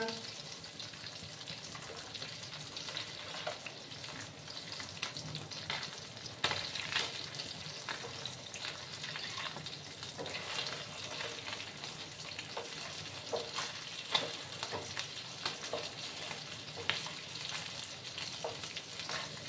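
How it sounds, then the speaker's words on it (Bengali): Shing fish pieces fry in hot oil in a pan, a continuous close sizzle with crackles and occasional stirring scrapes, moderately quiet and without talk. "একটু সময় আমি ভাজবো, তারপর আমি নামিয়ে নেবো।"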